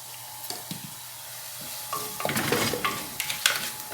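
Spices and asafoetida frying in a pan for a home-style Kerala tender jackfruit dish, a soft sizzle under scattered scrapes and clinks of stirring that grow busier in the second half, with no talk.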